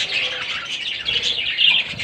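A yellow black-eye lovebird and other colony birds chirp rapidly and continuously at close range, a busy overlapping chatter of high tweets.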